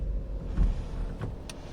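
Low, steady rumble of a car's interior while driving on a rainy day, with rabbits riding along as passengers; a couple of faint bumps and a short high chirp punctuate the road noise.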